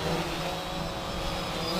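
A Bayangtoys X21 GPS drone flying outdoors close by, a steady whining motor hum over wind noise, constant and moderately loud for the whole stretch.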